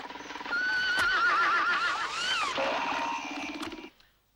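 A horse neighs loudly in a long, wavering whinny that rises and falls for several seconds, then breaks off, with no voices around it.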